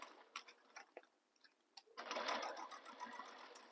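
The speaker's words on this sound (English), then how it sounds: "Stitch all the way along. And make sure that everything is staying lined up as you're sewing along." Close, fairly quiet machine stitching runs steadily along a bag's gusset panel, starting after a stretch of soft clicks and fabric handling.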